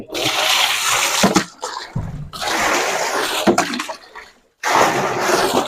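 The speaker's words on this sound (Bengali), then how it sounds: "এখন পানি ধরতে হবে আমাকে এটাতে" Water runs in broad, loud bursts into a container being filled for goats in a shed, pouring in three long stretches separated by brief pauses.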